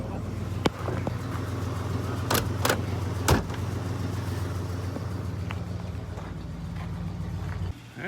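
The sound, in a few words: car door being opened and closed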